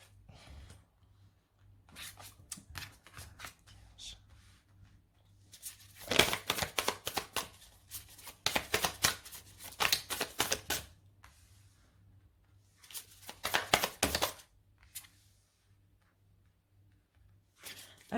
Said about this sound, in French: on va utiliser le tarot de Light Seers. Donc, je vais poser 4 cartes.